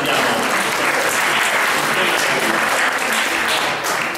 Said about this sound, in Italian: Un saluto, un applauso a Niccolò